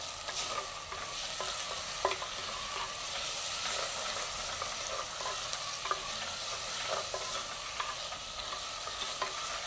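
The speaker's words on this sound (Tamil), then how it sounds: "வதங்கினதுக்கு பிறகு நாங்கள் தக்காளி பழம் போடுவோம்" Tomatoes fry in hot oil while being stirred in a pan for prawn biryani, a steady soft sizzle with occasional scraping clicks from the spoon, fairly quiet and without talk.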